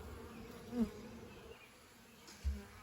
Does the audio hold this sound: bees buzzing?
yes